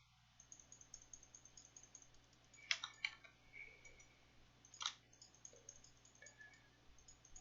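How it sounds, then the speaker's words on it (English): Computer mouse clicks while crafting in Hypixel Skyblock, a few sharp isolated clicks, two louder ones close together and another a moment later, over a quiet faint background. "this is just a video showing me clicking"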